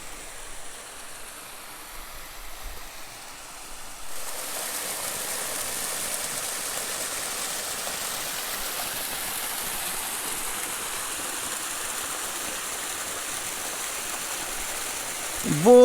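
Stream water flows at Sangni Fort, a Mughal-era fort near Kallar Syedan, Rawalpindi, rising into a steady, broad rushing wash after a quieter opening, continuous and fairly close with no talk.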